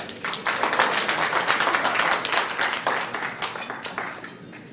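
Wedding guests applaud after the best man's and maid of honor's toasts, a dense, sustained burst of clapping from a full room that stays loud throughout before tapering slightly at the end.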